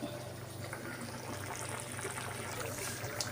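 Cracked egg poured into a simmering Tamil-style egg curry, a soft liquid trickle and pour over gentle bubbling, faint and continuous without speech.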